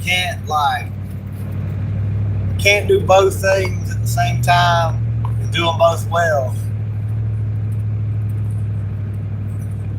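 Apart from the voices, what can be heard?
car driving on a road, heard from inside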